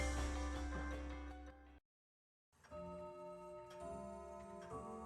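A big clock ticks steadily in a witch's portrait-hung lobby near midnight, the ticking set against layered music that drops briefly to silence before resuming.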